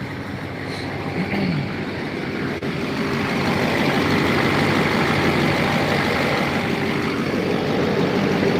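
A Duramax diesel truck engine idles with a deep, steady rumble that grows a little louder partway through and then holds evenly. It sounds close and runs on its own without talk.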